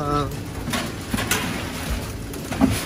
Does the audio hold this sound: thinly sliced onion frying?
no